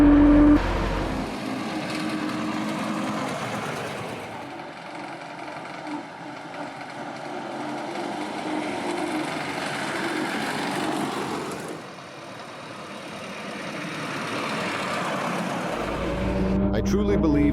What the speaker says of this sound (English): Everything here creaks and hums.